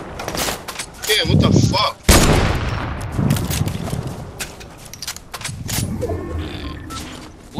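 Rapid gunfire from the tickle gun in the video game Fortnite, sharp repeated bursts of shots close up, mixed with game effects while players talk and shout over it.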